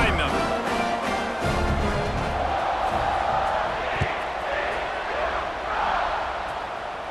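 A college football stadium crowd at a UCF–TCU game roars steadily after the kickoff, a dense, continuous wall of cheering and shouts, with an announcer talking over it.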